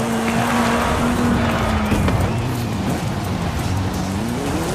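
Race cars roaring together at the start of a race in Forza Horizon 5, engines droning loud and steady with rising pitch throughout, a continuous dense wall of motor noise.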